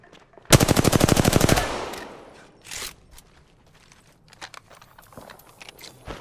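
Sustained automatic gunfire from an Apex Legends match, a loud rapid burst of closely spaced shots lasting about a second, followed by quieter scattered in-game clatter and movement.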